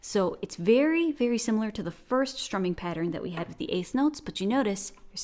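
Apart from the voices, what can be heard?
No distinct noise like a dog, phone or traffic.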